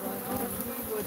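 Bees buzz in a continuous, dense drone around a beehive, a steady swarm hum that stays close and fairly loud with no voices.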